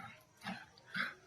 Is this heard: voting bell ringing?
no